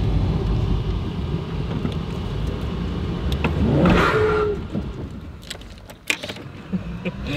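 A race car on a performance test gives a steady, fairly loud drone of engine and road noise. A rising whoosh swells near the middle, and sharp clicks and knocks follow.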